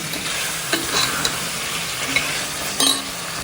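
Quail pieces frying in hot oil with onions while being stirred, a steady close sizzle with a few scraping knocks of the spoon against the pan.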